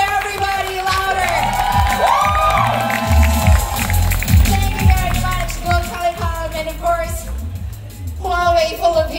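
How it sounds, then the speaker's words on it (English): A crowd at a phone launch in the Philippines cheers and whoops loudly, with shouts rising over steady applause, while an amplified voice and music carry through the noise for the whole stretch. "Your guys, secretaries, a big round of applause. Louder, everybody, louder."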